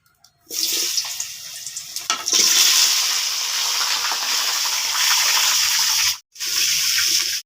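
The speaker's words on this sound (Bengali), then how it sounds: "ওল আলুকে ভেজে নেব" Loud, steady sizzling erupts as yam and potato hit hot mustard oil in a wok after a few light clatters, hissing continuously before briefly cutting out and resuming.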